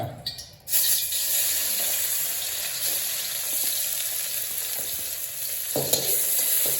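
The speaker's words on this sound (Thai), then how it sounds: "ใส่น้ำมันไป ใส่หมูลงไปจ้า" Pork sizzles hard in hot oil in a pan, a loud steady frying hiss that starts abruptly and keeps going with brief stirring scrapes, no talking.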